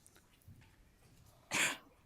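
A single sharp sneeze bursts out, loud and close, after a stretch of quiet room noise with faint low murmurs.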